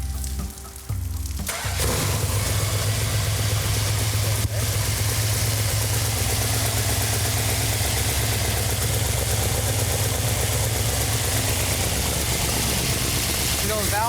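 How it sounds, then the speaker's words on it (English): The 340 V8 in a 1971 Plymouth Cuda convertible cranks briefly, fires up and settles into a steady, loud, rumbling idle close by, with voices talking under the engine noise. "I have total faith in you and my daughter, fruit of my loin, that you put this engine together correctly and it shall start"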